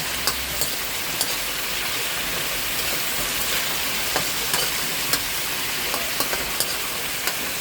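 Kangkong adobo frying in a pan while being stirred, a steady loud sizzle with scattered spatter pops and occasional clicks of a utensil, continuous and close, with no talk.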